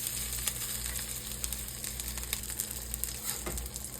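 Food searing in oil in a pot ahead of simmering in tomato sauce, giving a steady close sizzle with soft crackles and occasional scraping clicks from flipping, no talking.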